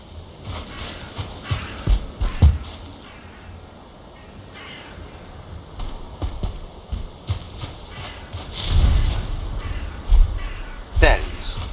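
A bird in the Valheim survival game gives several loud, harsh crow-like caws at irregular intervals, mixed with thudding footsteps and a voice heard now and then.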